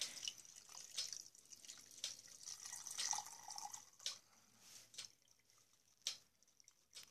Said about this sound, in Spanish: procedemos a llenarle un poco de agua tibia, que no esté muy caliente también